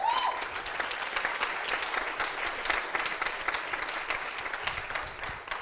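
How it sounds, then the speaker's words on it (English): An audience at a live debate event in Lisbon gives sustained applause for an essay contest winner, with dense, close clapping that holds steady and tapers slightly at the end. "so a big round of applause for him"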